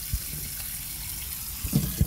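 Tap water runs steadily into a sink as marinated chicken is rinsed before frying, with a few soft thuds and splashes near the end.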